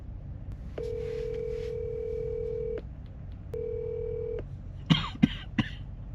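A telephone call sounds two steady, long electronic ringing tones separated by a short gap, followed by a few close coughs and throat clearing.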